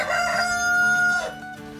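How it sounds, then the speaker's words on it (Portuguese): Rooster of a flock of Brahma Light chickens on a passion fruit farm crowing once in a long drawn call, with low clucking underneath, near and clear, no speech. "galinha Brahma Light, né?"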